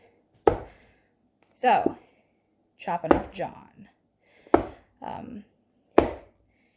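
Food is chopped on a cutting board in a home kitchen, with sharp knife strikes landing at a steady pace about once a second, close and clear. A person speaks in between the cuts.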